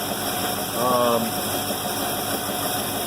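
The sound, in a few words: Trojan F25 boat engine idling at about 740 RPM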